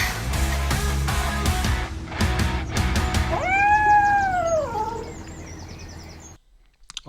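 A domestic cat gives a loud, drawn-out meow that rises and falls, heard close over a busy backdrop of music-like tones and clatter, followed by a brief quieter pause.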